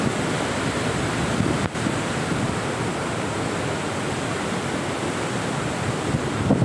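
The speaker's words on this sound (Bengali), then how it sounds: "কত জোরে জল ছাড়ছে" Water gushing hard from a release near the Jobra bridge in Cuttack, heard as a steady, loud, close roar of rushing water that continues unbroken throughout with no voices.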